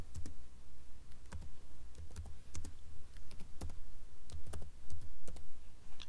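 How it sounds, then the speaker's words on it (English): Keys clatter on a computer keyboard as a title is typed into the Windows Command Prompt, in irregular bursts of crisp clicks over a low steady hum, close and fairly quiet, with no talking. "make space and type title as you want."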